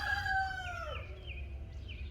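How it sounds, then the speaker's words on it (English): A rooster crows once outdoors on a small homestead, a clear falling call at moderate distance that trails off into quieter, higher cackling notes, with no talking. "the rooster's still going"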